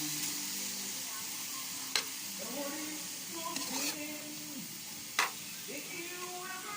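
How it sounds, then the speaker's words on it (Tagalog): Bicol express with ginger and garlic simmering and sizzling in a pot, a steady soft bubbling hiss with a few sharp clicks, fairly close with no talk. "Hayaan ko muna siyang kumulo"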